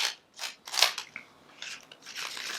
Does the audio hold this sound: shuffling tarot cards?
yes